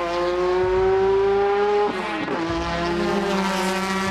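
Lancia Rally 037 rally car engine, a loud, sustained high-revving note that climbs steadily, dips briefly around a gear change near the middle, then holds strong again, with no talking.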